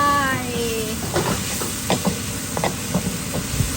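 Onion stir-fried in a pan until soft, with a steady close sizzle and repeated scraping strokes of a spatula, and a short stretch of voice at the very start.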